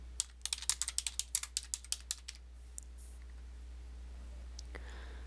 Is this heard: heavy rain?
no